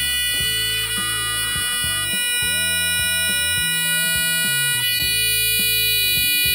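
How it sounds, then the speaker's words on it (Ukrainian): A loud electronic buzzer from a children's circuit-building kit sounds continuously, its harsh tone stepping up and down in pitch, close and piercing. "є пищалка, яка подає доволі гучний звуковий сигнал"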